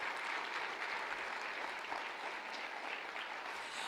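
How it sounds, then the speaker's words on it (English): Applause for students of the Del Sol Academy of Performing Arts at the Clark County School District State of the Schools event, a steady full-room ovation holding evenly throughout. "Let's have another round of applause for our amazing students and the Del Sol Academy of Performing Arts"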